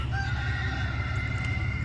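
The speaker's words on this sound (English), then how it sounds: "so a lot of roosters." Several roosters for sale at an outdoor swap-and-shop market crow in long drawn-out calls, fairly faint and distant over a low steady background hum.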